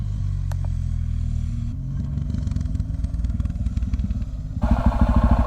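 A motorcycle rides along bush tracks in Girraween National Park, its engine giving a loud, close, continuous rumble with rattling and clatter, then revving up harder near the end.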